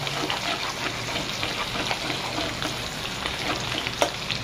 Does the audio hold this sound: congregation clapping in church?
no